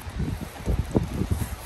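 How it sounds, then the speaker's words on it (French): Outdoor wind buffets the microphone in low, uneven gusts and rumbles, steady and fairly loud throughout with no voices. "j'espère que le vent va pas trop vous embêter"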